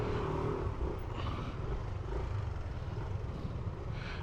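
Steady road noise and passing traffic while riding a motorcycle, a continuous low rumble of engine and wind with faint swells of nearby vehicles, no talking.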